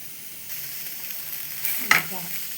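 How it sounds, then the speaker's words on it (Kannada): A low, steady sizzle of frying in a pan, with a sharp clink of a utensil partway through. "ಚೆನ್ನಾಗಿ ಫ್ರೈ ಆಗಿದೆ"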